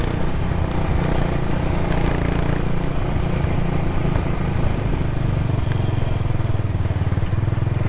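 A vehicle engine revs as the accelerator is pressed, a dense, steady motor roar with a rising drone toward the end, close and loud with no talk over it.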